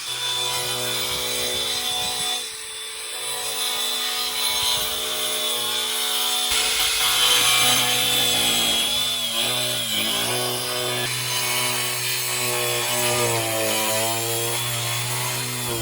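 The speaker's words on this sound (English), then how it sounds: "He's going in with his grinder and he's going to try and get as much of that out as possible." A grinder cuts fiberglass filler out of a Ford Escort rear quarter panel, giving a loud, continuous, close-up whine whose pitch wavers as the disc bites, with no voices.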